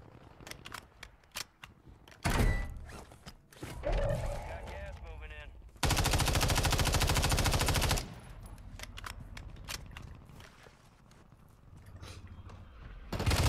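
Rapid automatic gunfire in the video game Warzone 3, with bursts of single shots then a loud sustained two-second stream of fire, close and dominant, with brief voices between bursts.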